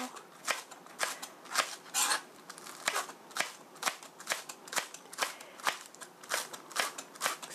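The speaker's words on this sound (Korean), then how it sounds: "그린 어니언 실파는 얇게 송송 썰어주세요" Green onions sliced thinly with a knife, a rapid, even series of crisp chopping taps on a cutting board, close and clear with no talk.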